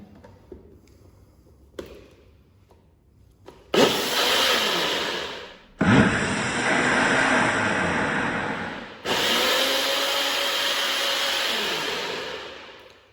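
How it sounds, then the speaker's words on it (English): A kitchen blender mixes doughnut batter in three loud, steady bursts of whirring, each several seconds long and cut off abruptly, with quiet handling noises before the first burst. "mix that there, just blend it for me."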